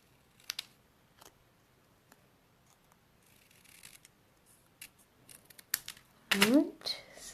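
Scissors snip paper close around a card sentiment, several short, faint crisp cuts spread through the clip and then a louder cluster of snips near the end, with a voice talking softly in between.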